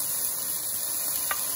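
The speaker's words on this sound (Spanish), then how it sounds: "movemos y vamos sofriendo" Vegetables sautéing in a teaspoon of oil in a pan: a steady, close hiss and sizzle heard alone, with a brief scrape of stirring partway through.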